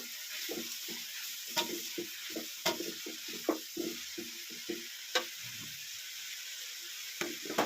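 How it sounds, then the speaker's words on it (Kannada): Chopped fenugreek leaves frying in hot oil for a field-bean upma, a close steady sizzle broken by repeated scraping stirs and occasional sharp clinks of a utensil against the pan. "ಸೊಪ್ಪು ಚೆನ್ನಾಗಿ ಎಣ್ಣೆ ಫ್ರೈ ಆಗಬೇಕು ಹಾಗಾಗಿ ಸೊಪ್ಪು ಹಾಕ್ತೀನಿ"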